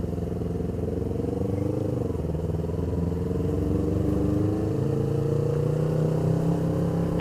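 Yamaha R25 250cc sport motorcycle engine running steadily, a continuous close-up engine drone with slight shifts in pitch and no speech.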